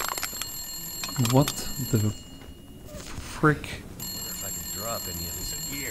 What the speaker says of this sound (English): That's the emergency phone.